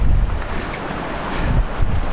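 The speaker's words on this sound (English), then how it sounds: "that it's a windy frickin' day" Strong wind roars and buffets close up on a spring canoe trip, a steady low rumble that swells and gusts without pause.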